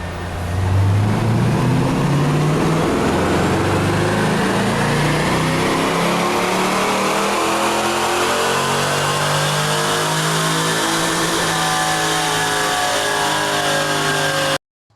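An engine on a dyno with ignition timing set to 13 degrees revs hard and loud, its pitch sweeping steadily upward through one long sustained pull before cutting off abruptly.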